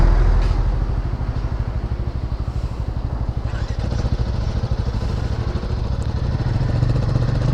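A motorcycle rides along a road in Mizoram, its engine loud and close with a steady, pulsing drone throughout.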